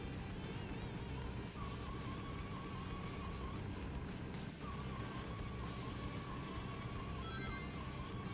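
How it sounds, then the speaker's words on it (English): A vehicle engine in the Sonic Adventure 2 video game hums steadily and loudly with a sustained tonal whine, dense and continuous throughout, with occasional pitch shifts and no talking. "I like how they make different engine sounds."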